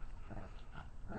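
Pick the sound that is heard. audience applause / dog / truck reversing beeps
dog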